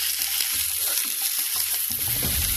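Chopped onions and mushrooms sizzle steadily in a pan, a constant bright frying hiss broken by soft scraping and clacking as they are stirred around, close and alone.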